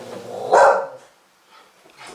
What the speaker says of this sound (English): Sorry for the dog making noises.